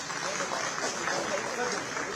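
At a government ceremony where the chief minister hands out appointment letters to new officers, a large hall audience gives sustained applause, an even wash of many hands clapping at moderate volume from a distance.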